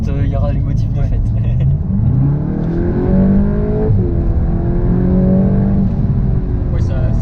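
VW Golf 8 GTI Clubsport, 300 hp, pulling hard with a loud rising engine note that climbs through gear changes. Conversation between occupants continues over the steady cabin roar.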